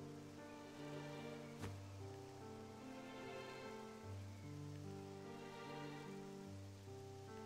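Steady rain falls in the Octopath Traveler 2 video game as a soft, continuous patter of drops on surfaces, faint and even, with a low musical drone underneath and no voices.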